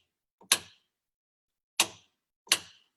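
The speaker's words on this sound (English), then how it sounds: "That is the sound of these amazing toggle switches that are so" Toggle switches in a capsule are flipped three times, each a sharp isolated click with a short rattle, close and crisp against silence, spaced irregularly.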